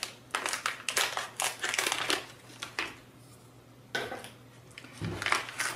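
Anti-static bags holding electronics parts are handled during an unboxing, giving bursts of close, sharp crinkling and crumpling plastic that stop for a quiet gap and then resume, with no talk.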